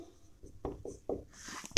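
Pen scratching across paper in short strokes, several quick scribbles in close succession, near and fairly quiet, with no talking.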